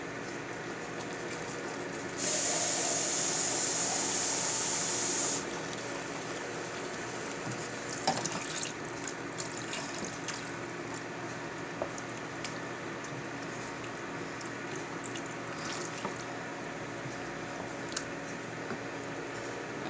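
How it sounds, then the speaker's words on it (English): Water poured into a simmering baked ziti sauce, a steady sizzling hiss and bubbling that runs continuously, with a brief bright whine near the start and small clinks scattered through. "So I'm going to add some water to this."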